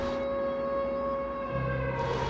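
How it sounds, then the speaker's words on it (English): A civil defense siren sounds across Israel on Yom HaShoah, Holocaust Remembrance Day, holding a steady, sustained wail that stays loud and unbroken throughout, with no voices. "As that siren starts"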